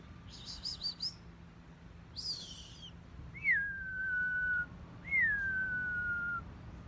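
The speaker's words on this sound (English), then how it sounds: "Those little mockingbirds don't like it." Mockingbirds call outdoors: a few quick chirpy bursts, then two long, drawn-out whistled calls that slide downward, moderately near against a low background hum.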